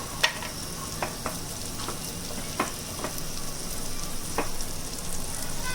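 Vegetables sautéing in a pan, a steady close sizzle punctuated by several sharp clicks and taps of a utensil against the pan, with no one talking.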